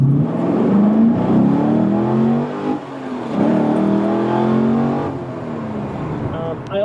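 Chevrolet Camaro SS with 570 horsepower, stainless long tube headers and a ported throttle body, its engine revving loud and close in rising and falling waves, with a voice speaking over it.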